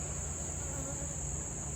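Honey bees droning around a hive during an Apiguard varroa mite treatment, a faint, continuous buzzing with no pauses.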